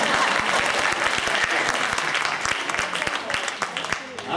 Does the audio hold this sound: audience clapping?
yes